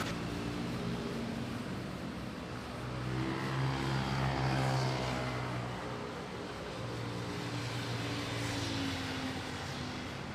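A large airliner taxis into the gate at Manila airport with a steady, loud jet engine roar and whine that swells slightly in the middle, heard from nearby with no talking.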